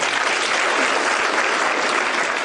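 Sustained crowd applause at a groundbreaking ceremony for the Mavoko affordable housing project in Machakos, a dense, even wash of clapping holding steady and fairly loud from start to finish with no pauses.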